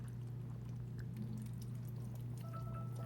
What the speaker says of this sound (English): Then when it's ready, we'll add our pinto beans in the juices.